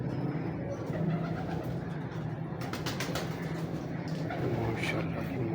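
Breeder's pigeons coo softly and steadily at close range in a loft, with faint wing movement and a few other bird sounds mixed in, and no one talking.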